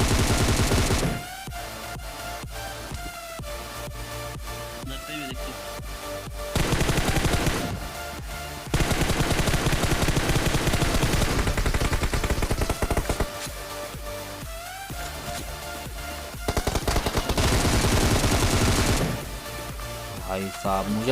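Gunfire in the video game PUBG at the Erangel military base, with repeated bursts of automatic rifle fire and single shots spread across a busy stretch, loud and close, over game ambience.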